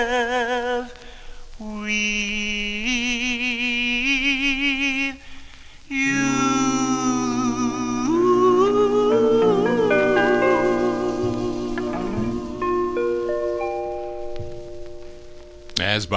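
A 1954 doo-wop record on Decca playing from vinyl: smooth male vocal harmonies hold long notes over soft backing, with a lead voice singing a romantic line. The music is steady and fills the whole stretch.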